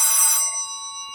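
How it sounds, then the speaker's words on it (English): A voice-over-IP desk phone rings on a payphone call, a bright electronic trill that is loud for about half a second before fading into a steady ringing tail. "it rings into my voice over IP phone"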